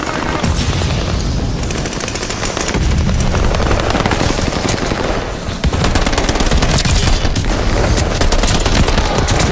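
Sten submachine gun fire in the Call of Duty Vanguard shooter game: loud, sustained rapid automatic bursts close up, with dense overlapping shots and booms filling the whole stretch with hardly a pause.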